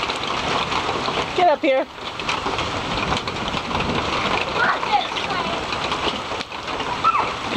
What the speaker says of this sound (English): this is the kind of rain that'll make you sick